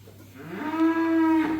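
A Simmental-type Jemokoan cow gives a single close, drawn-out moo that swells and holds steady for about a second before tapering off, with no talk.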